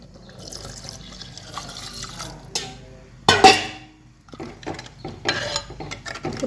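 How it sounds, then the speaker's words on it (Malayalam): Water poured into a pan of Kasaragod-style hog plum (ambazhanga) curry, a close splashing pour that builds briefly in the middle, with faint kitchen clatter around it. "ബന്ദിക്ക് എത്ര വെള്ളം വേണം നോക്കിയിട്ട് കൂട്ടിയിട്ട് കൊടുക്കാം"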